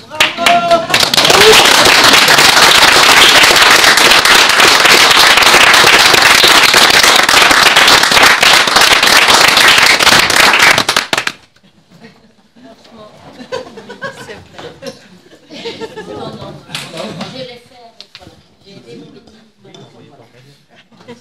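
Loud, sustained applause fills a municipal council meeting for about eleven seconds, then stops abruptly, followed by quieter room sounds and scattered talk.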